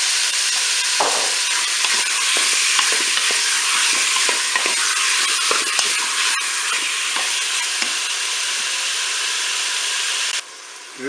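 Beef browns in melted butter in a Cookeo electric pot, a loud continuous sizzle broken by scraping stirs, and it cuts off abruptly near the end.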